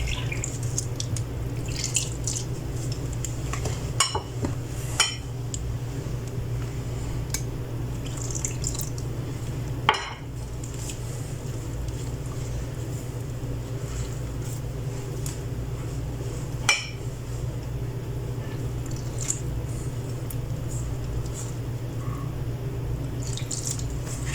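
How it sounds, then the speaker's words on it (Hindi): Water is added a little at a time into paratha dough during kneading, heard as soft intermittent drips and small splashes over a steady low hum, with a few sharper taps and no talking. "ऐसे ही थोड़ा थोड़ा पानी डाल के तो अच्छा सा आटा बना लेंगे।"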